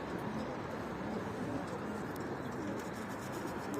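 Pigeons in a loft cooing steadily in a low, continuous murmur, with faint occasional wing claps from young birds practising, no talk over it.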